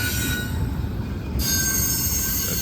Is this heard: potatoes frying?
no